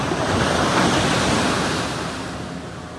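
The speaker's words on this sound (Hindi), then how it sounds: "इधर लहरें बड़ी खतरनाक होती है." Large, dangerous sea waves surge and crash continuously at Madhavpur Beach, a loud, steady roar of surf with wind noise on the microphone and no voices.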